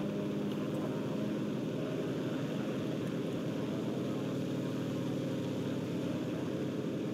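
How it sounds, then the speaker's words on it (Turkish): Single-seat propeller plane in the video game Enlisted, droning steadily and evenly in flight, quiet and unbroken with no talking. "Oh, bir kişilik uçak."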